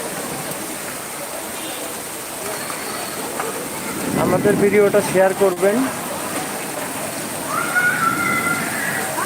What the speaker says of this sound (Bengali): অনেক সুন্দর বৃষ্টি হচ্ছে